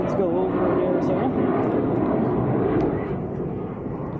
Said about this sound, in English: as these planes go over in Arizona